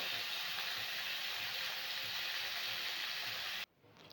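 Vegetables frying in oil reused from frying fish heads, with a steady, close hiss and sizzle that runs unbroken and then drops off sharply near the end.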